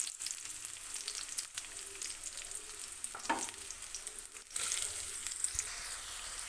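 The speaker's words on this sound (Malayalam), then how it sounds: "വെളിച്ചെണ്ണ ചൂടായി വരുമ്പോൾ അതിലേക്ക് നമുക്ക് അരിഞ്ഞു വെച്ചിരിക്കുന്ന സബോള ഇട്ട് കൊടുക്കുക." Sliced onions fry in hot coconut oil in a pan, giving a continuous soft sizzle with a brief louder crackle partway through, steady and fairly quiet with no talking.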